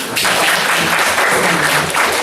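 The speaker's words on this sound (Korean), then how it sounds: "박수 좀" Seminar audience in a graduate business school lecture room bursts into loud, dense applause, a continuous wash of many hands clapping close by from start to finish.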